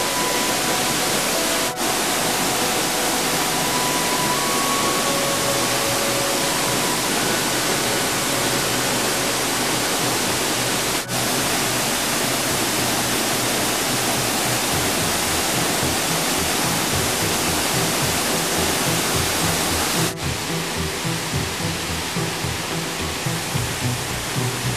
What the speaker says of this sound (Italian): C'è la cascata della Buragna che viene dalla Monte di Pietra Corniale,